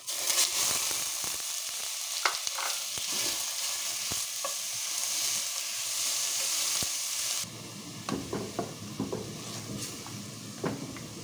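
Onion, garlic and pork hiss and crackle in a hot pan, a dense close sizzle broken by spatula scrapes and clacks, the hiss easing into quieter sputtering with more stirring knocks later.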